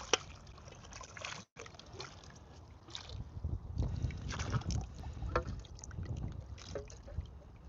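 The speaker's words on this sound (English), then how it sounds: "Now we're gonna hit this with the water until it runs clean" A garden hose spraying water over potatoes being rinsed outdoors, with a steady wash of splashing and trickling that rises and falls and continues throughout at close range.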